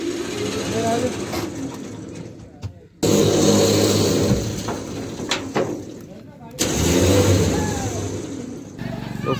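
A Mahindra Scorpio S11 engine roars loudly and strains as it revs up a steep uphill climb, in sustained surging bursts with brief dips between them, while voices talk over it.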